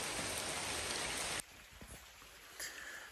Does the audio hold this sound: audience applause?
no